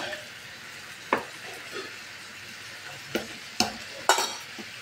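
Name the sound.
stirring banana flower mixture in a pan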